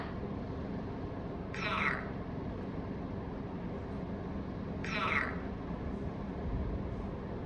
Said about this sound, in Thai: มีตัว c a t cat แปลว่าแมวค่ะ